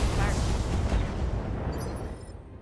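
Heavy weapon fire from a BattleTech mech, an Awesome shooting at a Thunderbolt, makes a dense, loud, booming rumble that runs continuously with no clear gaps and slowly fades toward the end.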